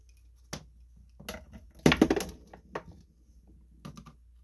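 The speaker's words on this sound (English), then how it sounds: "I took a screwdriver and I got in between there and pried that apart" Screwdriver prying apart the plastic carburetor bowl of a Bolens push mower, a few sharp, close plastic clicks and scrapes with one louder crunchy burst in the middle, set against quiet background.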